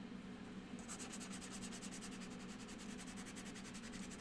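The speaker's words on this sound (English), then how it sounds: "we're gonna sand this, but we're gonna use a lighter grit sandpaper" Light-grit sandpaper rubs across a wooden drawer in quick, even back-and-forth strokes, a soft, close scratching that stays low and steady throughout.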